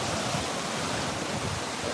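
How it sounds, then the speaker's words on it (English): Strong gust of Tropical Storm Debby roars across a lakeside canal neighborhood, a loud, broadband rushing blast buffeting the microphone steadily for two seconds with no voices. "okay, another wind gust."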